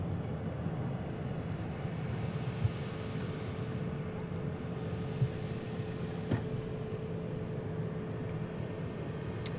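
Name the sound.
American Airlines plane taking off at DFW airport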